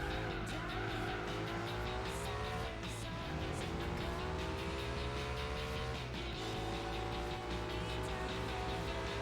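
A Lancia Delta races in Gran Turismo 4, its engine revving hard and close with two audible gear changes, a rising pitch between them and brief tire squeal under the continuous drone.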